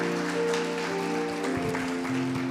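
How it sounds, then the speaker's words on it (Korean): Congregation applauding together at a church worship service, a steady, moderate wash of clapping that continues throughout with a low tonal hum beneath it. "다시 한번 축복의 박수 여러분 해주시고"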